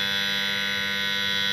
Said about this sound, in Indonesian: Oke, terjadi alarm.